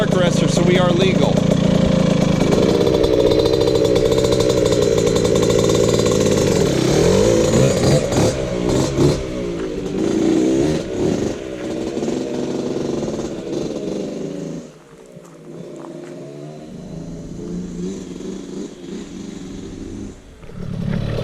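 A Yamaha YZ65 two-stroke dirt bike fitted with an FMF Turbinecore 2 spark arrestor exhaust idles and revs nearby, a raspy buzzing engine that rises and falls before settling back to a rough idle.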